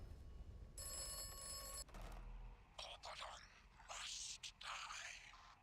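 A telephone in a phone box in the video game Atomfall rings in a short burst of bright, steady bell tones. Rustling, shuffling game sounds and ambience follow.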